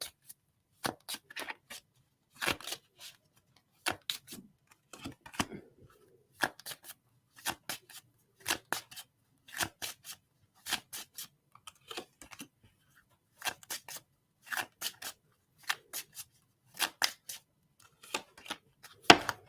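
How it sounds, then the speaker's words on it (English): Tarot cards shuffled by hand in repeated quick riffling bursts, crisp and close, separated by short pauses in an otherwise quiet room. "Give me some cards."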